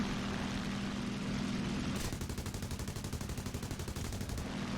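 Rapid machine-gun bursts from an SB2U-2 aircraft in War Thunder, a dense rattling stream lasting a few seconds over a steady engine drone, loud and close.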